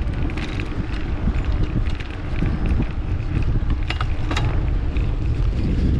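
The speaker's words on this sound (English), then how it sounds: "we're now headed straight into a headwind, which isn't that strong" Headwind blowing against a cyclist riding between Telford and Shrewsbury, a continuous rough buffeting roar of wind over the microphone with faint creaks and rattles from the bike, loud and steady throughout.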